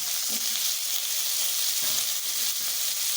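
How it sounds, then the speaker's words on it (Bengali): Potato pieces sizzle in hot oil left over from frying cauliflower for a duck egg curry, a loud continuous hiss with a few soft stirring knocks. "ওই তেলেই আমি আলু কটা একটু ভেজে নিলাম"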